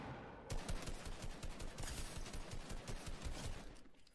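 Rapid gunfire crackles throughout a Fortnite match, a steady stream of overlapping shots at moderate volume with no voices over it.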